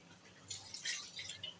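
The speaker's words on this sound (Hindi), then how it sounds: "1 कप 2 कप के करीब में पानी डालूँगी।" Water pours from a cup into a pan for balushahi dough, a light, continuous hissing splash at close range with no talk.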